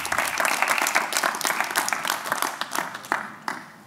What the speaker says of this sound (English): can we give Lance a big round of applause